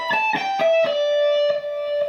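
An electric guitar plays a fast descending lick, with several quick picked notes settling onto a long sustained tone, close and loud with a slightly driven tone and no speech.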